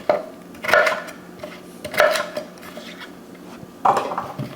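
Cut pieces of food dropped into a cooking pot in a home kitchen, three separate clattering knocks of pieces landing against the pot at roughly one-second intervals, close and clear with quiet gaps between.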